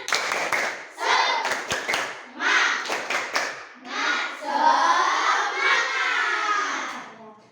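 Children in an Indonesian classroom do a spirit clap. Quick bursts of claps and shouts come in close rhythmic groups, then give way to a longer loud stretch of cheering voices.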